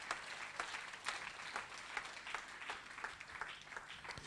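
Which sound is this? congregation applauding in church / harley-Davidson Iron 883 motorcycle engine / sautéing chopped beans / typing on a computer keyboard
congregation applauding in church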